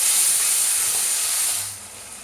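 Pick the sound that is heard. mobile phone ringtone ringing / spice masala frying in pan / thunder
spice masala frying in pan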